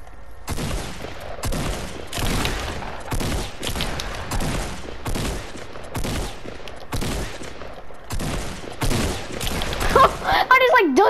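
Rapid bursts of gunfire in the video game Fortnite crackle repeatedly throughout, fairly loud and evenly spaced, with brief voices and game sounds mixed in near the end.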